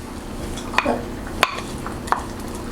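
Onions dropped into a pot of simmering collard greens, with a few sharp clinks of a utensil against the pot over a soft steady bubbling background, no voices.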